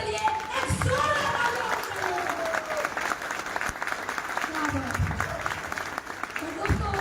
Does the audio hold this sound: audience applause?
yes